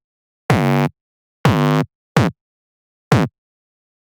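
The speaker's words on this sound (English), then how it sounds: "The tweak bass sounds like this." Tweak bass synth patch made in Serum, heard as four separate harmonic stabs that each bend upward in pitch, the first two longer and the last two short, loud and dry with silence between them.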